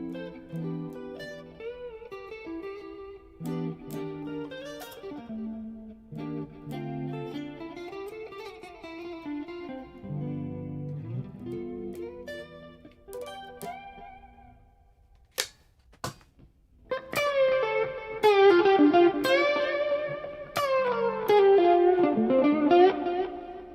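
An electric guitar through the Tonex Clean tone with a distortion pedal plays sustained distorted notes and bending melodic phrases, broken by a few sharp clicks, then returns louder with ringing chords and lead lines.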